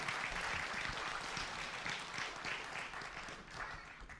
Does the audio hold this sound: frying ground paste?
no